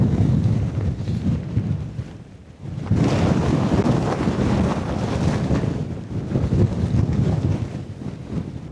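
Strong gusts from Storm Amy batter a Nordisk Svalbard 1 SI tent pitched inner first, a loud continuous roar and flapping that dips briefly and then surges back, buffeting the microphone.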